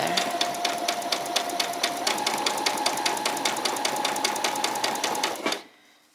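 A sewing machine runs in a fast, even stitching rhythm while embellishing a butterfly and bee outfit with lace, close and steady, then stops abruptly near the end.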